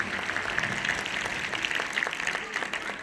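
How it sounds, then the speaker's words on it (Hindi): An audience clapping for a few children at a gathering, a short burst of dense, fairly loud applause that holds steady for a few seconds before tapering slightly. "इधर एक बार मैं चाहूंगा ये 2 बच्चियों के लिए और दोनों बच्चों के लिए जोरदार ताली होनी चाहिए।"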